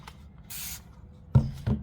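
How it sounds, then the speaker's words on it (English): A single short hiss of soap spray from a spray bottle, close and clear, followed by a couple of soft handling thumps in a quiet car interior. "I take my spray soap, give it a good spray"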